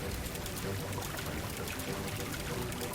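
Water pours and rushes steadily in the Psychonauts 2 video game, a dense, continuous splashing wash that holds an even level throughout with no talk over it.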